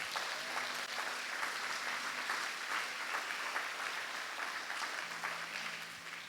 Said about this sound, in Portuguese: Pode dar um salve de palmas para Jesus